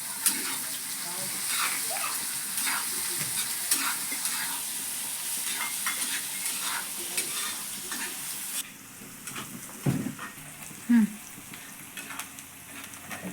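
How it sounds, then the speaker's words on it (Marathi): Onion frying with cumin seeds in hot oil in a pan, sizzling steadily with scraping stir sounds, quieter in the final seconds with a few clunks; a voice talks faintly at times. "जिरं टाकलं. आता कांदा टाकायचा."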